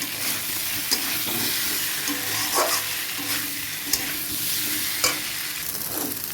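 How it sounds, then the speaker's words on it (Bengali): Spice paste being stir-fried in a pan for a cauliflower and potato curry hisses and crackles loudly and continuously, with a few sharp taps of the spoon against the pan. "দেখ মশলাটা আমার প্রায় কষা হয়ে গেছে তার একটু কষিয়ে জল দেবো"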